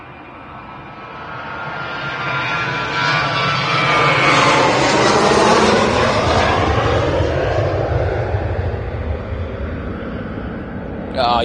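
A jet airliner takes off from Manchester Airport bound for Paphos on a long rollout, its engine roar building steadily to a loud, sweeping peak before easing slightly as it passes, heard up close outdoors.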